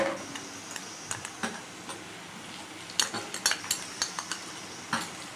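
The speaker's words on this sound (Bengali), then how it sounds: "রসুন আদার পেস্টটি দিয়েও আবার ভালোভাবে ভেজে নেব। দেখুন ভালোভাবে ভেজে নিচ্ছি।" Garlic-ginger paste and onions fry in a pan while a metal spoon stirs and scrapes, giving a series of quick clinks and taps over a soft sizzle, busiest near the end.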